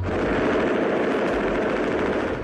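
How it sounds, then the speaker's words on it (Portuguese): An AK-47 assault rifle fires in archival street footage from Rocinha, Rio de Janeiro, in 1989, a loud, dense, continuous roar of rapid shots that runs unbroken through the whole stretch. "O traficante Naldo é flagrado atirando com um fuzil."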